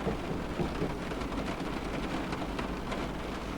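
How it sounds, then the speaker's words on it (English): Heavy rain in Train Sim 2021, on a Springburn to Yoker run with a Class 314 train: a dense, constant downpour hiss with low thunder rumbling underneath, steady and enveloping with no voices. "Because I set the weather to like heavy rain."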